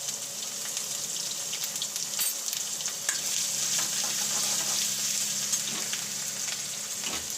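Ginger and garlic fry with cumin in a hot pan, making a continuous bright sizzle with scattered crackles and pops. It carries on evenly, close by, with no voices.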